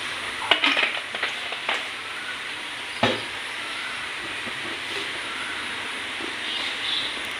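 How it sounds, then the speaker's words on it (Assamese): Soybeans frying in oil in a hot wok, a steady broadband sizzle with a few sharp clatters of stirring near the start and around the three-second mark, then a continuous hiss. "ইফালে কেৰাহীটো গৰম হৈছে, চয়াবিনখিনি ভাজি লৈছোঁ মই।"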